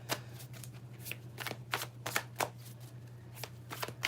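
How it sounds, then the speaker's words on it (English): Tarot cards are shuffled by hand in quick riffling bursts, a run of crisp papery flutters close to the microphone over a low steady hum. "as I'm just shuffling the cards"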